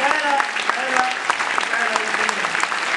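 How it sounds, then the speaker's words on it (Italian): A live audience claps at an Italian-French public event on democracy, a steady patter of applause lasting a few seconds with voices talking over it. "un applauso"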